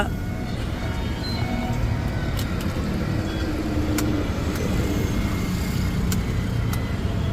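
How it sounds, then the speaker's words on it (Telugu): A Maruti Vitara Brezza ZDi diesel car idling and pulling away, a steady close engine rumble with surrounding road noise and no clear speech. "ఈ బండి కూడా ఇప్పుడు బయలుదేరుతుంది ఈయన శ్రావణ్ బండి నడుపుతుంది ఈ బండి వచ్చేసి మారుతి విటారా బ్రిజా జెడ్డిఐ"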